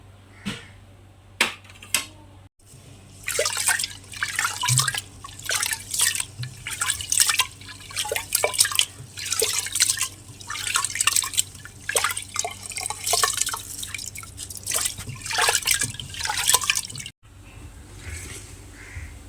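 Rice is washed in water for chicken biryani, producing near, rhythmic sloshing and splashing for about fifteen seconds, with brief clicks before and after and no talking.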